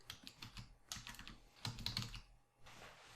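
Someone types a report name on a computer keyboard: quiet, close key clicks in short bursts with brief pauses, no talking.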